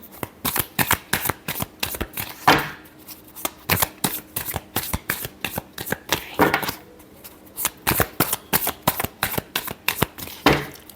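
A deck of tarot cards shuffled by hand in rapid repeated riffles and snaps, a crisp close-up flutter recurring in quick bursts, with no talk.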